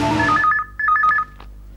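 A telephone rings as a drama sound effect, two bursts of bright warbling electronic trill separated by a short gap, loud and close, followed by a fading tail.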